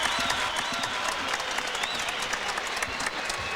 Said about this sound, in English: This big crowd enjoying it here at the Thomas & Mack Center in Las Vegas.